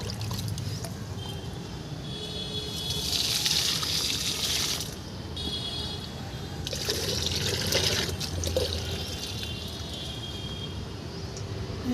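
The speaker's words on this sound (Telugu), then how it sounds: "ఫస్ట్ మా కాకర మొక్కకి ఇచ్చేస్తాను నీళ్ళు" Liquid fertilizer water poured from a mug onto bitter gourd and other garden plants, two bursts of splashing and trickling a few seconds each over steady background hiss, close and moderately loud.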